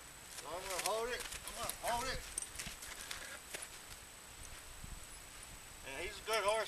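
Hooves clip-clop in a slow, uneven walking rhythm close by, with someone talking over much of it.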